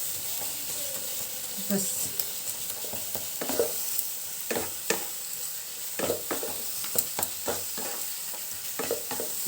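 Kesariya halwa frying in ghee, a constant hiss and sizzle broken by repeated scraping stirs of a spoon in the pan, close, with a brief spoken word.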